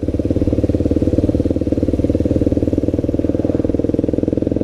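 Voge 300 Rally motorcycle with an ABS fault, engine idling in a steady rapid thumping rhythm, loud and close, running continuously without talk.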